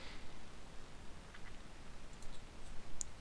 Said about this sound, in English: She's typing more.